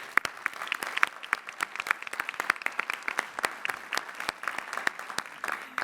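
Graduation-day applause at the 2017 Lehigh University commencement greets the new Doctors of Philosophy: a large seated crowd claps steadily for several seconds, individual sharp claps standing out over a moderately loud, even patter.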